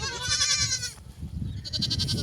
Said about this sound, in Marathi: लय भारी पिल्ल आहे ती पिल्ल शेळ्याची पिल्ल